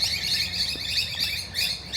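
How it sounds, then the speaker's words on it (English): Birds in Adelaide chirp in rapid, repeated high trills, a dense and fairly loud chorus of overlapping calls that runs without a break over a faint low background rumble. "check out all the birds here in Radelaide"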